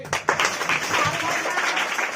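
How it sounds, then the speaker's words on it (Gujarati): An audience claps for a child's costume contest entry dressed as Rani Lakshmibai, a loud, steady patter of many hands that fills the whole moment, close and lively. "બહુ સરસ તાળી પાડો"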